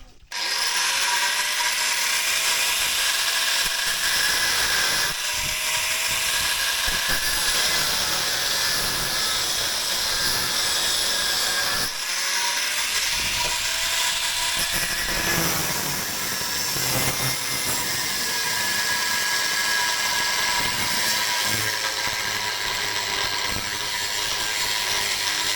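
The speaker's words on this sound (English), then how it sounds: "So let's try an angle grinder." Angle grinder cutting scrap metal, powered from a portable power station, giving a continuous loud, harsh high-pitched whine and rasp with small shifts in pitch as the blade bites, steady throughout.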